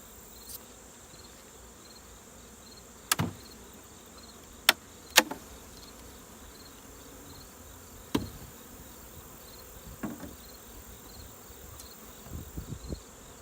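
Honey bees hum softly and steadily at the hive, broken by a few sharp knocks and taps.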